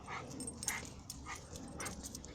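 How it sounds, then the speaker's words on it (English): A small dog outdoors lets out a rapid series of high, thin yips, moderately faint and at some distance, repeating in quick bursts over steady background noise. "The little dogs, they just think they're so big."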